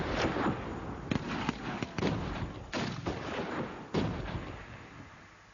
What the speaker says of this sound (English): Women and children fell victim to Boer shelling and rifle fire.